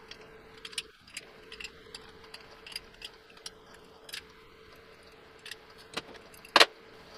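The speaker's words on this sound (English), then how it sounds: "And yes, I'm using an adjustable wrench." An adjustable wrench tightens a hub nut on a model car front axle, giving a series of small metallic ticks and clicks at irregular intervals, close and quiet, ending with a sharper jangling clink.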